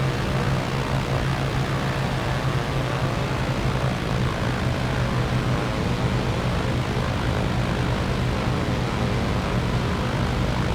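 An airplane on final approach to land on runway 20, heard as a loud, steady engine drone with a constant low hum throughout.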